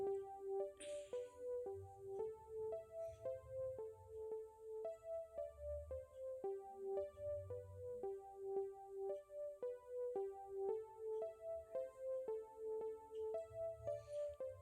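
Korg M1 synth melody sequenced in FL Studio: a quiet, repeating pattern of short plucked notes in a steady rhythm over soft low thuds, faint throughout.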